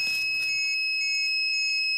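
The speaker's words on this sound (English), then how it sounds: "Ultimus went into alarm mode. Gamma Scout is screaming." Gamma Scout radiation detector in alarm mode while radioactive waste is dug up at Chernobyl, giving a shrill, steady high-pitched tone that runs for the whole two seconds, with a brief burst of other noise at the start.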